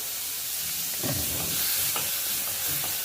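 Bottle gourd pieces dropped into hot oil sizzle with a steady broadband hiss, swelling slightly around the middle with a few soft stirring clatters, close and continuous with no talking.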